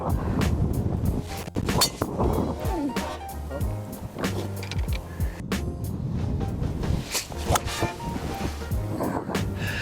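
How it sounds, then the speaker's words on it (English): Strong wind sweeps across the Humewood links golf course in Gqeberha, South Africa. Loud, gusty rushing buffets the microphone and surges and dips throughout. "this wind is really blowing hard today"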